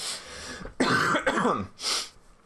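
A few harsh coughs and a throat clear, close by, in short bursts separated by brief pauses, with no talking.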